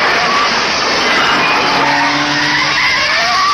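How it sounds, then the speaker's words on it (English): Race cars at Forest Elbow on Mount Panorama, Bathurst, during the 1971 Great Race skid with a long, loud tyre squeal and a roaring engine, continuous for several seconds. "At Forest Elbow, Leo Gagan and Doug Whitefoot brush with spectacular results."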